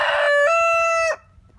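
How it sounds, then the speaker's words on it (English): A pet rooster kept with a flock of chickens lets out a single loud, close crow that holds strongly and then cuts off abruptly, leaving near silence. "And that's my rooster."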